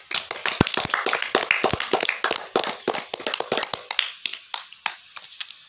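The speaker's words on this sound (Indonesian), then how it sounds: "Tepuk tangan untuk Glenn." A classroom of pupils claps for a classmate, a burst of many quick, close claps that thins out into a few scattered ones toward the end.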